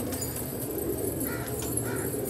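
Two soft, brief coos from a Lal Ban desi pigeon in Pakistan rise over a steady low background hum, with no voices present.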